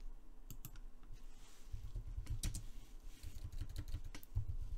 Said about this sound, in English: This wireless keyboard misses the first letter you type every time.